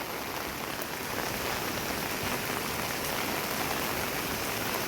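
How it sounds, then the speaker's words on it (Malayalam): Steady rain falls heavily, a dense unbroken hiss of drops that stays even throughout with no voices. "മഴയാണ് പുറത്തുള്ളത്"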